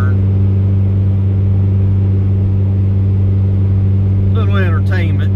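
A naturally aspirated 1994 Acura Integra LS engine drones loudly and steadily while pulling through a gear coming out of a turn, with a voice briefly speaking over it near the end.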